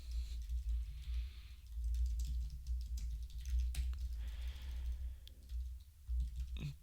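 Fingers typing on a computer keyboard in quick irregular bursts of light clicks and taps, close and fairly quiet over a low steady hum, with short pauses between runs of keystrokes.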